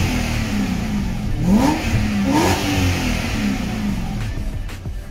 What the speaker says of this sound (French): Je vais vous faire écouter la douce mélodie du V8.